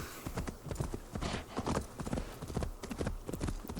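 A summoned deer mount in Assassin's Creed Valhalla trots up, its hooves giving a brisk, fairly faint clip-clop rhythm that keeps up without a break.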